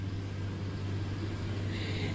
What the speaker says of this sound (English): this person coming down the road on the tractor